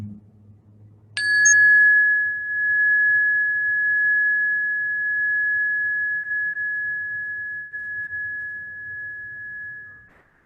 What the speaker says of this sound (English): And as you listen to the sound of the bell one more time